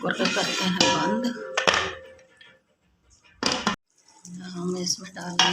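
A pressure cooker lid being closed during home cooking of desi chicken karahi, heard as a couple of sharp metallic clanks and thunks between stretches of kitchen clatter and a woman's speech.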